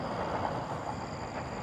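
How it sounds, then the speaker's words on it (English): A train rolls past steadily, a constant broad rumble and rail noise holding at an even level from start to finish with no talking. "Why is that train going past?"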